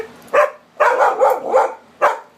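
A puppy barks close by in a quick series of four or five sharp, yappy barks with brief gaps between them, loud and clear over a quiet room.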